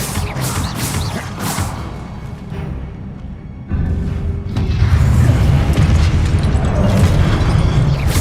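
A Depulso spell cast in Hogwarts Legacy combat, a loud booming burst partway through that leaves a dense, rumbling roar of magical effects and crashing debris.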